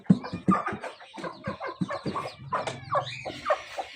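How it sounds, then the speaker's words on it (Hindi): A hen clucks in a rapid series of close, throaty calls, with short bursts and pauses running throughout. "ये मुर्गी है।"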